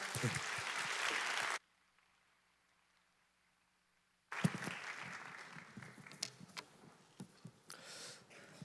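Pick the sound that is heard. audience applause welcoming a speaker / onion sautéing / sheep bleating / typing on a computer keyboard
audience applause welcoming a speaker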